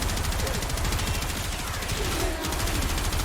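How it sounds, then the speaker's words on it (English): Gotva Prime rifle firing in Warframe on Steel Path, a dense, continuous stream of loud rapid shots running through the whole stretch with no pause, close and constant in level. "let's go for some body shots now"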